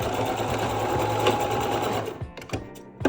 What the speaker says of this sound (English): So just stitch a straight line.